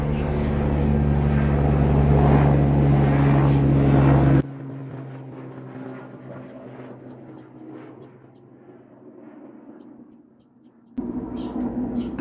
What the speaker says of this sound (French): petite interruption avion